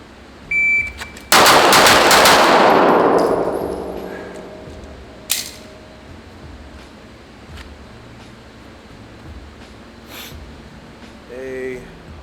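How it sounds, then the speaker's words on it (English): Pistol shots from an Icarus Precision OZ9 X-Grip, drawn from concealment and fired two per target at 7 yards: one loud initial burst with ringing decay, then a sharp smaller crack and faint later pops, with speech nearby. "7 yards, 2 shots each target. See how fast we can get it."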